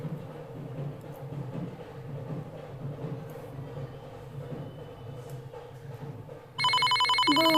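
A telephone rings in a home, its bright repeated electronic tone starting loud and sudden near the end, after a stretch of steady low background noise.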